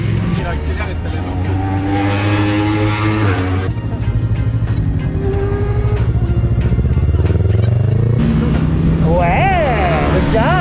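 A rented track motorcycle accelerates hard, its engine note climbing in rising sweeps and shifting through gears, loud and close, with a steady roar throughout and voices talking over it.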